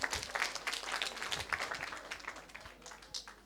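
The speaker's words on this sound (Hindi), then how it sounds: "जोरदार तालियां एकता के लिए।" Lively audience applause for a contestant at a Sanskrit quiz during a poet's festival, a fairly quiet patter of many hands clapping that tapers off slightly toward the end.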